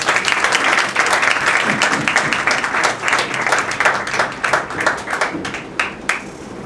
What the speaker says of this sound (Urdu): اور اس کے لیے تالیاں بجائیں۔